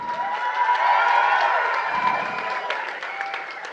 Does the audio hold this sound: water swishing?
no